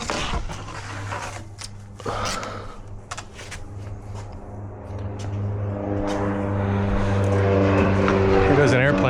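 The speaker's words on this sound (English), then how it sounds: "Here goes an airplane" An airplane flies overhead near an airport by a boatyard, its engine drone swelling steadily louder over several seconds while someone talks nearby.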